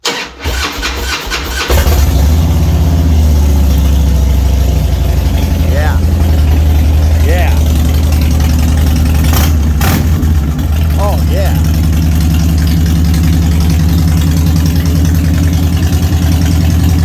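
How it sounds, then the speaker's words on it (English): A 2007 Harley-Davidson FXDL Dyna Low Rider with aftermarket pipes cranks and fires after about two seconds, then settles into a loud, steady, rumbling idle close by, with a few brief voiced exclamations over it. "Okay, so thumb the starter. Let's hear this baby, because it does sound good with these pipes."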